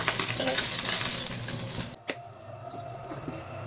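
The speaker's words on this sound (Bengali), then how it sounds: "এই মাছটাও সুন্দরভাবে ভেজে ফেলেছি। এখন আমি মাছগুলো উঠিয়ে নিব।" Small puti fish frying in oil in a pan over a medium flame, a steady close sizzle that drops sharply about halfway through, leaving a quieter crackle with a light clink.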